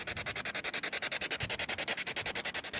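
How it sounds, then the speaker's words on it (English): A radio scanner steps through frequencies at a winter B-52 crash site, giving a fast, even train of hissing static pulses, about ten per second, steady and fairly loud with no voices. "This radio that you hear going off, scanning through frequencies"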